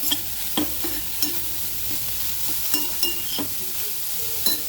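Bitter gourd (karela) slices stir-fry in a pan over a continuous sizzle, punctuated by irregular, sharp spatula scrapes and knocks against the metal.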